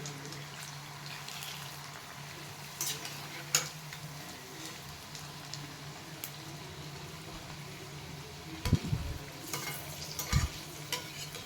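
Onion bhaji fry in oil over a low gas flame, giving a quiet, even sizzle with scattered ticks and a few louder clattering knocks near the end.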